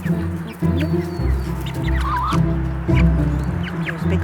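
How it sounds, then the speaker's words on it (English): Chickens in a spring backyard garden cluck in short, repeated bursts close by, with a few higher squawks and peeps mixed in and no talking over them. "There's a big fowl right there."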